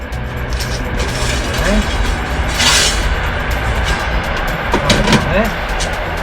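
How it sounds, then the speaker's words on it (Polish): A train passes close by outdoors while pizza bakes in a pellet-fired oven, its steady rumble and rushing wheel noise filling the whole stretch, with faint clacks and a brief hiss partway through. "Pozdrawiamy pociąg, który właśnie przejechał."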